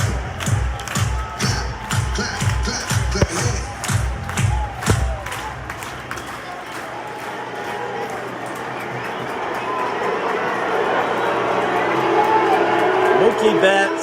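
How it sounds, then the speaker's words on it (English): Stadium crowd at the Dodgers–Cardinals NL Wild Card game claps in a rhythmic, chant-like pattern, then the claps give way to a swelling roar of cheers and whoops that grows louder toward the end, with a voice talking nearby. "Clap your hands."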